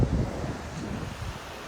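Ocean surf and wind at Cherry Grove Point, a wild stretch of coast: a steady low roar of waves with gusty wind buffeting the microphone, fairly loud and continuous with no talking.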